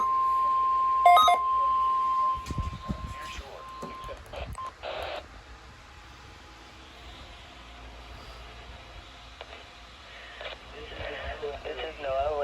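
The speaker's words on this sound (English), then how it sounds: "The preceding signal was a test of the public in the Florida listening area, originating from Ruskin, Florida" NOAA Weather Radio Emergency Alert System test signal from Ruskin, Florida: a steady, loud electronic tone for a few seconds at the start, then an announcer's voice speaking over a radio broadcast for the rest.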